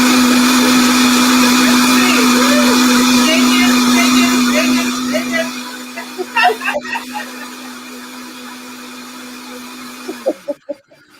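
A blender making plant-based ice cream whirs loudly with a steady high whine for several seconds, then spins down, followed by a few clinks and quieter handling sounds.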